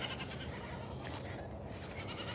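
Goats bleat on a farm at feeding time during chores, with several calls rising out of a constant background of animal noise and movement.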